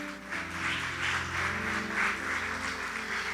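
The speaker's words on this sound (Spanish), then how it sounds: "Dele un fuerte aplauso al Señor" A church congregation applauds at the close of a Holy Spirit congress, broad clapping washing over sustained music and keyboard tones, moderately loud and continuous.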